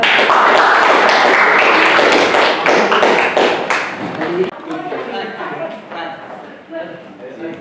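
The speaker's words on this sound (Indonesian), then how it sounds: "Tepuk tangan buat semuanya." Applause at the close of a talk at an event, dense and loud at first, then thinning into scattered individual claps as it fades.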